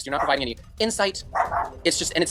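A pet dog barks and yips in short bursts at home, overlapping a man's ongoing speech.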